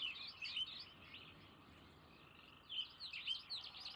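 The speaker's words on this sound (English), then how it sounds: "There are so many birds. Lots of bird noises, lots of tree frogs." Birds chirp and tweet in a forest in the video game realMyst, with tree frogs in the ambience; faint, quiet bursts of high twittering come at the start and again near the end over a low, soft bed.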